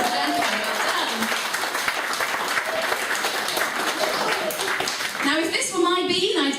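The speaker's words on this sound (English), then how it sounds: "Give him a round of applause, ladies and gentlemen." Comedy club audience applauding at a stand-up show, a sustained burst of clapping with some voices and a brief spoken moment near the end.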